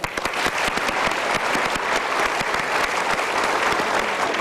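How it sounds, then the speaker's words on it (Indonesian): A seminar audience breaks into dense, sustained applause, many hands clapping loudly and evenly for several seconds without pause. "Good, kita berikan tepuk tangan."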